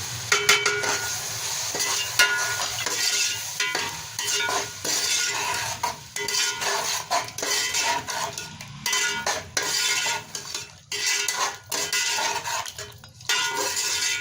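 Tomatoes, green chilies and dry spices go into a sizzling cooking pot for a rice pulao, with repeated clanks and scrapes of a utensil against metal. Bursts of stirring break up the steady frying underneath.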